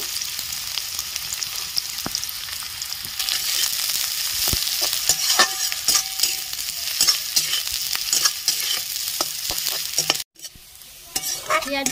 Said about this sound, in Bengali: মাছগুলো লাল করে ভাজা হয়ে গেছে